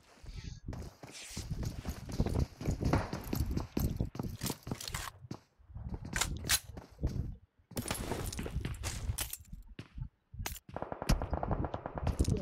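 Gunfire from a custom-room battle royale video game match, bursts of shots scattered through a dense, busy game mix alongside footsteps and other effects, with talk over it.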